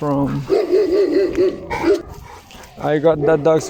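Dogs bark and yelp in short, close bursts, some drawn out and whiny, alternating with a person talking over and between them.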